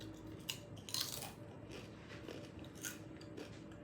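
Crispy homemade potato chips, lightly salted, are bitten and chewed up close, giving several faint, sharp crunches spread irregularly over a few quiet seconds.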